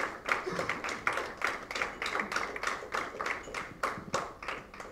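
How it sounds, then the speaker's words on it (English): Audience at a dance research congress event in Dadar, Mumbai, clapping in a sparse, uneven rhythm, individual claps standing out clearly as a small group applauds for several seconds. "A big round of applause for every one of them"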